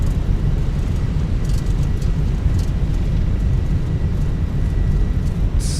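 Airbus A320 thrust reversers deployed during landing in a flight simulator, a loud, steady, low engine roar with broadband rushing noise that holds without a break.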